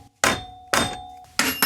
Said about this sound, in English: I need to hammer that ground wire back down.